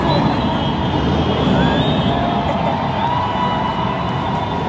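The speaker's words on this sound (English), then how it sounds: "Sirens NYC." Emergency vehicle sirens wailing on a New York City street during the Pride March, a steady loud wash of siren tones over crowd noise and traffic that holds for several seconds.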